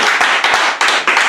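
A church congregation clapping together in loud, rhythmic unison, with bursts of hand claps repeating several times in a row.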